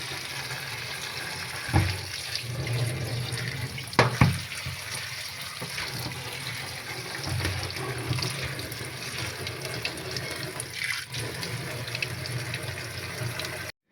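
Tap water runs steadily into a sink while note greens (amaranth leaves) are washed for a vegetarian chorchori, a continuous splashing flow with a couple of louder bumps and no talk.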